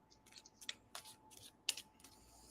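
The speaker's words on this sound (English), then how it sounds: "Just a moment while I get shuffled up here." Tarot cards being shuffled by hand give a few soft, quick riffling and snapping bursts close by, with quiet pauses between them and no talking.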